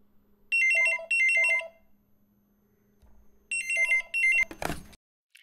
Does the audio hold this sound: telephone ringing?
yes